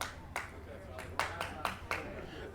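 Scattered claps ring out from a baseball dugout at a Cranberry League game in Braintree, about half a dozen sharp, fairly distant hits spread unevenly over a low crowd and field murmur.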